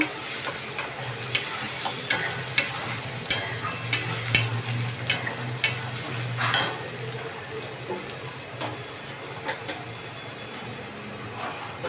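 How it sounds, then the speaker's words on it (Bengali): Spice paste is stirred and fried in a pan for roasted chicken kosha. A steady sizzle runs under irregular spatula taps and scrapes against the pan, close up, with a low hum in the background. "এবার এই মশলাটাকে কষাতে থাকবো।"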